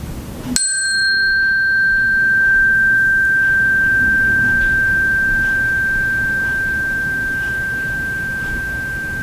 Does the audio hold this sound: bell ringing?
yes